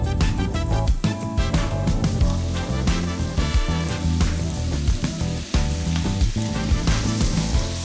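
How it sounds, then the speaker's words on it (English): Sausage browning in a hot pan for a one-pot dinner, with loud continuous sizzling and frying crackle close up and occasional stirring scrapes throughout. "we're gonna start this recipe by browning our sausage"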